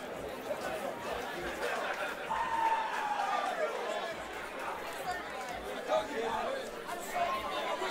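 Fight crowd at a 30-27 decision in Tristan Overvig vs Julius Walker, a steady roar of chatter and murmuring from a large audience, fairly distant and continuous with small swells.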